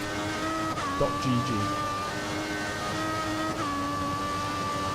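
A Formula 1 car engine from the racing game F1 2014 drones steadily at a rough, tractor-like pitch, shifting briefly around a gear change before holding its tone.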